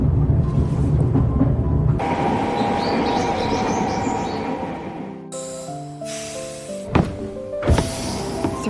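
A train travelling on rails through mountain country, a loud close rumble and clatter of cars, then a rising stepped mechanical whine and sharp metallic clunks as it rolls on, with no talking.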